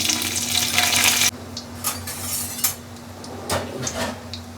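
Dried red chillies, bay leaf, cinnamon, cumin and cardamom hit hot mustard oil in a kadai with a loud burst of sizzle. It drops after a second to a softer crackle under scattered clinks of a spoon against the pan.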